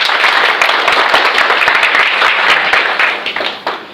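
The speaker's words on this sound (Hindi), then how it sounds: "के लिए जोरदार तालियां।" Loud, dense applause from an audience at a Vestige CNT training session, steady clapping throughout that thins and fades toward the end.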